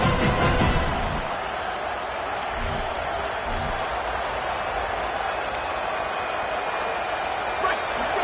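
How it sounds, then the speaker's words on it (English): A stadium crowd at a Gamecocks football game roars in a broad, continuous wash of cheering, loudest at the start and then settling into a sustained distant din. "This crowd bringing the energy and noise early"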